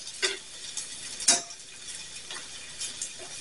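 Caramelized onions are stirred in a pan, with soft scraping and a few distinct utensil clinks against the pan spaced over a low, faint background sizzle.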